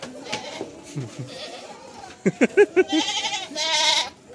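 Dairy goats on a farm in Jember bleat in a run of several loud, close calls, with background chatter and rustling around them.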